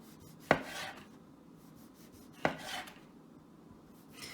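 A knife slices through rolled-up handmade pasta dough on a board, giving two separate sharp chopping knocks with a short scraping tail after each, close and fairly quiet, with no voices.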